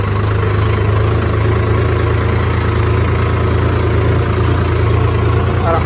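A tractor engine carrying a load of paddy runs with a loud, steady low drone that stays constant throughout, with no pauses.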